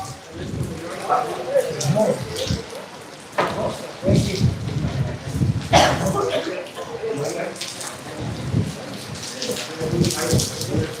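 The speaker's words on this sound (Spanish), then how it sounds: "está lloviendo intensamente ahora mismo" Heavy rain pours steadily on a street in Cuba while thunder rumbles in bursts, with gusts of wind and some voices in the background.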